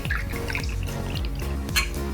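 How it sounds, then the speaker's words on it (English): Bourbon poured over ice into a glass for an Old Fashioned cocktail, a quiet close trickle with small clinks of ice and a faint splash near the end. "then we're going to add in 2 ounces of bourbon"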